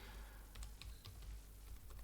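A password being typed on a computer keyboard, with quick, irregular key clicks up close over a low steady hum and no talking.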